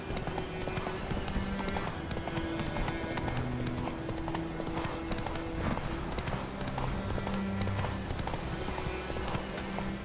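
A horse trots with steady, rhythmic clip-clopping hooves in The Witcher 3, heard close and continuous over game music and background sound.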